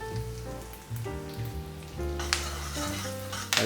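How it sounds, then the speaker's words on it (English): Garlic, ginger and slit green chili sautéing in hot oil, a brief sizzling hiss under a tonal background, with a couple of sharper bursts near the end. "I'll just saute this."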